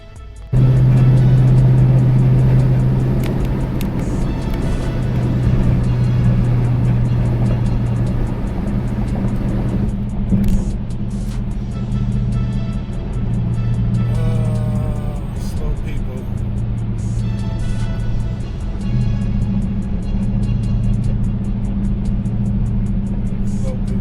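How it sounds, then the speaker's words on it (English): Steady road traffic rolls past a Dodge Challenger R/T, with a continuous low engine rumble and tire roar holding loud throughout, occasional higher whines from passing vehicles, and someone talking faintly over it. "Traffic right about now."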